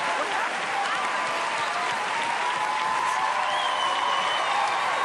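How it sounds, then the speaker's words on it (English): A live theater audience gives a comedian a loud, steady round of applause that stays full and unbroken for the whole stretch. "Please give Howie Mandel a huge round of applause."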